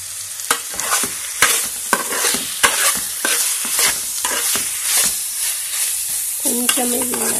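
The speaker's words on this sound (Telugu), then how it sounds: "కొంచెం ఇది మగ్గితే బాగుంటుంది, నూనెలో కొంచెం మగ్గితే" Bommidala fish frying in oil in a pan for a pulusu: steady crackling sizzle with repeated sharp stirring scrapes and knocks throughout, loud and close, no talking.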